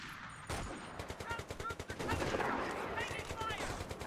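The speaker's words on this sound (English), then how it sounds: "Snipers trading blows by shooting at each other's squads" Rapid gunfire in Company of Heroes during a sniper exchange between squads, dense bursts of repeated shots close together, loud and continuous, with a voice talking over part of it.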